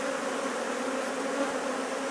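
Honey bees buzz around an open hive frame during an inspection, a steady, moderately quiet hum that holds constant throughout.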